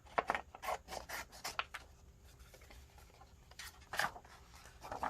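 Material is cut by hand for a simple folio craft project, a run of short, close scraping strokes in an uneven rhythm, a quieter pause, then a few more strokes.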